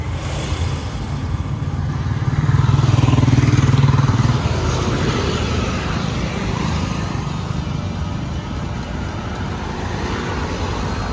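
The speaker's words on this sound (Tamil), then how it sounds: "கடுமையான டிராஃபிக்." Heavy road traffic on a hospital road in Chetpet, Chennai, with motorcycles and cars streams past in a loud continuous roar of engines, swelling briefly as a nearby vehicle passes, with no talk.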